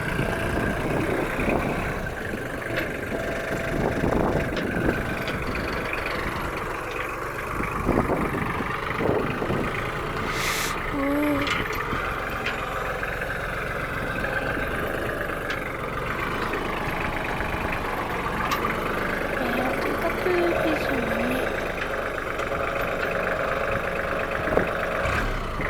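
A steady tractor engine idles low and rumbling for the whole stretch, with faint clanks and shifts as the tractor backs up slowly, no voices over it.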